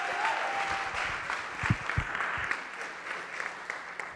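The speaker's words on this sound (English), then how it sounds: "Let's give another round of applause as they make their way back to school." A crowd at a Paterson event honoring women applauds a student band from Young Men's Leadership Academy, steady clapping from many hands with a few louder claps and thumps standing out near the middle.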